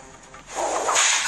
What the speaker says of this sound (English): This is like a whip.